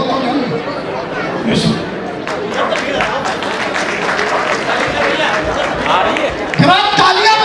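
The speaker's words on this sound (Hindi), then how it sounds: "जरा आप भी तालियां बजाते रहे भाई, तालियां बजाते रहे।" Audience applause at an award ceremony for meritorious students in Kanpur, a steady wash of clapping and crowd chatter running throughout, with someone talking loudly over it.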